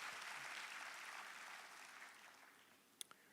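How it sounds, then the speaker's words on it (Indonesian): Applause from a church congregation during a worship service, dense and steady clapping that gradually thins out, ending with a couple of sharp isolated claps. "Lebih meriah lagi tepuk tangan bagi Kristus Yesus Tuhan."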